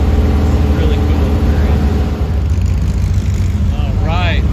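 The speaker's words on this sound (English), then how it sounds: "Got the VWs lined up along the road, heading back to their parking spots." A parade of Volkswagen cars at a VW car show rolls along a road in a steady loud engine and tyre rumble, nearby and continuous, with brief faint whistling voices near the end.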